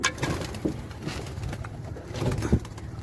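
Deshi pigeons coo softly in low, rolling calls, fairly quiet and somewhat distant, with light rustling between the coos.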